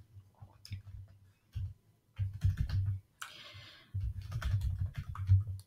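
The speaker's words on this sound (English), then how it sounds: "So I'm going to type in the school email." Someone types an email address on a computer keyboard, with quiet clicking keystrokes arriving in short bursts separated by brief pauses, heard close and alone.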